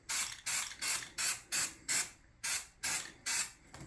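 Ten short, even bursts of aerosol primer spray hiss in a quick rhythm, close and fairly loud, with brief silent gaps between them.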